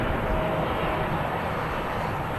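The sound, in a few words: Boeing 787-9 arriving from Jeddah at Manchester Airport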